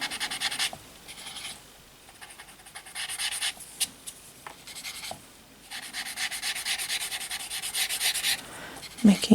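Graphite shading is rubbed onto paper in long, steady scratchy strokes, close and fairly loud, with short pauses between passes and a few soft taps.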